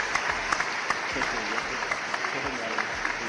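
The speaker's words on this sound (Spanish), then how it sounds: "Bueno, fuertísimo aplauso." Audience applause at an urban music contest show, a dense sustained crowd clapping with a few sharper claps standing out, loud and continuous.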